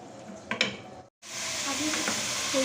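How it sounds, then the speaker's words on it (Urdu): Half a kilogram of meat sizzles and fries in ginger garlic paste in a pan, a steady loud hiss after a brief break, with stirring clinks and a voice speaking over it. "اب ہم اسے ادرک لہسن میں اچھے سے بھونیں گے۔"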